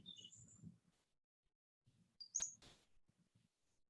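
Birds sing in the morning, a few faint high chirps and a brighter call with a trill, sparse and distant, heard over quiet low murmurs of speech.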